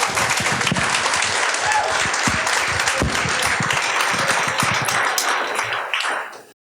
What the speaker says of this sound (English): Let's give Valerie a big round of applause.